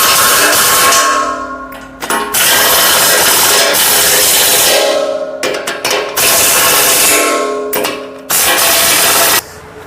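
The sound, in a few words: 3/4-inch impact wrench tightening bolts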